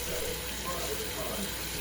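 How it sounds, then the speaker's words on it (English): Cold water runs steadily into a kitchen sink being filled to wash collard greens, a soft, even rushing close by with no voices over it. "put the greens in the sink with cold water and pour salt and vinegar all over the greens"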